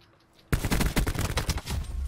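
Rapid bursts of gunfire in the video game Black Ops 4 erupt abruptly after a half-second of quiet, loud and sustained like automatic weapons fire.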